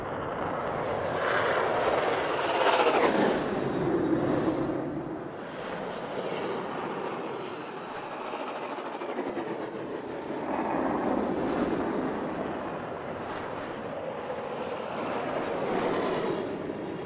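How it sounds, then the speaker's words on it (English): Looped spaceship flyby sounds from the video game Star Citizen: broad roaring whooshes that swell and fade repeatedly, several passes rising and receding in a continuous loud rushing texture with no voices. "let's hear an example of what the loop flyby sounds contribute by itself"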